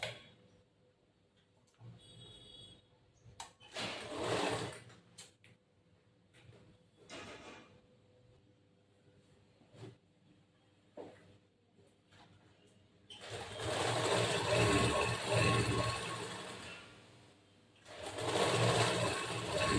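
A sewing machine stitches boat-neck blouse fabric in short, close whirring bursts, then a longer run of several seconds, broken by quiet pauses with faint handling sounds.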